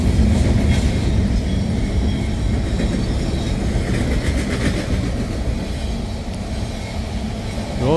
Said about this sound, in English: Don't hesitate to do a little train spotting on our little videos here.